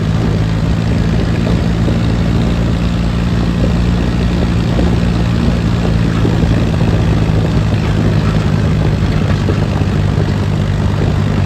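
A tractor labouring slowly up a ghat mountain road at night, its engine a constant heavy low drone that fills the whole stretch without a break.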